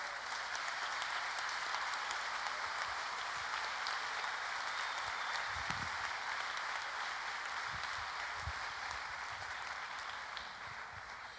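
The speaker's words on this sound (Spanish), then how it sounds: "nos llevamos un aplauso interesante" An audience at a political talk applauds in a long, steady patter of clapping that stays even and fairly quiet, fading slightly at the end.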